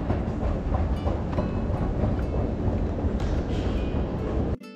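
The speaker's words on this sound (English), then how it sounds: "we love the metro system here" A Lisbon metro train running, with a steady loud rumble and clickety-clack from inside the carriage that continues throughout and cuts off abruptly at the end.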